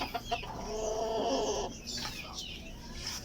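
Backyard pet silkie chickens cluck and call close by in a short burst of overlapping bird sounds, with no talking.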